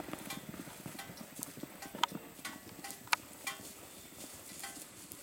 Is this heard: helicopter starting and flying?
no